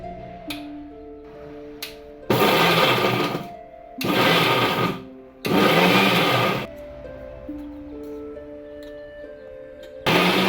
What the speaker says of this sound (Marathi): हिरवी मिरची, ओवा आणि जिरं हे मिक्सरला एकत्र बारीक करून घेऊया मित्रांनो